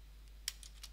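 A computer mouse double-clicking during PLC programming software work on a Micrologix 1100, giving a few faint, sharp clicks close together over a steady low electrical hum.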